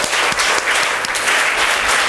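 Students at a guidance lecture break into steady, dense applause that fills the room, loud and close, with no voices over it.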